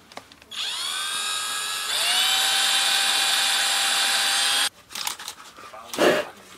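A power drill whirs steadily for several seconds, drilling into an air rifle stock, its pitch rising once as it speeds up, then cuts off, leaving brief handling noises.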